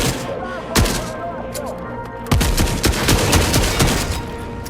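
Video game gunfire in rapid bursts, loud sharp cracks in quick succession with a brief gap before a dense volley of shots closes it out.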